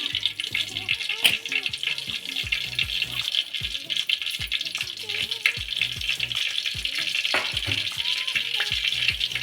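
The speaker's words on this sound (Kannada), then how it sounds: "ಇವಾಗ ನಾನು ಬಾಣಲೆ ಇಟ್ಟು ಒಂದು ಸ್ಪೂನ್ ಎಣ್ಣೆ ಹಾಕಿದ್ದೀನಿ ಇವಾಗ ಸಾಸಿವೆ ಸೇರಿಸ್ತಾ ಇದ್ದೀನಿ" Mustard seeds fry in a spoonful of hot oil in a pan, giving a steady close sizzle with scattered small pops and crackles throughout.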